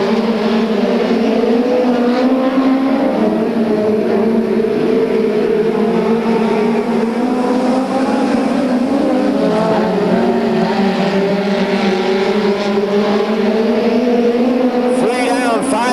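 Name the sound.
USAC midget race cars racing around Bakersfield track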